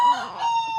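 Chicken clucking close by in a short, loud burst with a drawn, tonal rooster-like quality.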